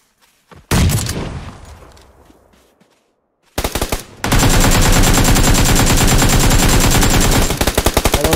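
Gunfire in PUBG Lite on the Miramar map, with a couple of loud shots and a decaying boom, a short pause, then a long sustained burst of rapid automatic fire, close and dominant.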